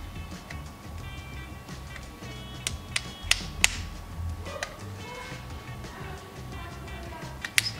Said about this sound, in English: just pressing it back together until it clicks